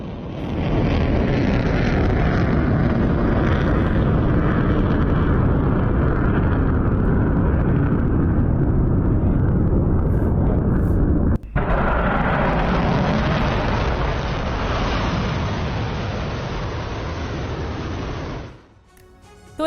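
Iranian missiles striking Israel produce a long, loud, roaring rumble of explosions and blast noise that fills the air continuously, briefly cutting out before resuming and then fading at the end.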